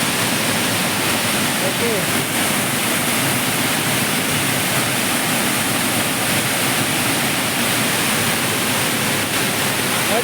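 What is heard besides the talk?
Mookana Mane waterfall roaring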